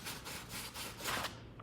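Rhythmic rubbing strokes of sandpaper smoothing splinters from a wooden coat rack peg, close and steady, with about six repeated passes and no talking.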